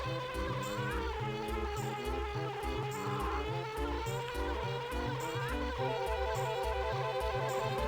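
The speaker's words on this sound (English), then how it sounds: "there's some fellow bees just doing their work" Bees in a video game stage give off a steady buzzing drone that blends with rhythmic, looping game music, continuous and fairly loud throughout, with no talking.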